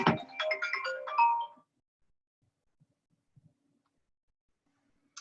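A phone ringtone plays loudly for just over a second as a bright melodic chirping burst, then cuts off into near silence with a few faint clicks and a brief tone at the end.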